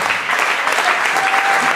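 Dense, loud applause from a live concert audience at Spazio Teatro 89, continuous clapping filling the room without a break.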